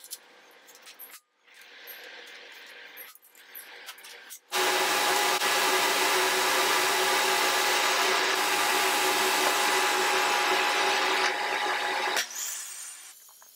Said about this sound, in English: I start by flattening the faces on the jointer.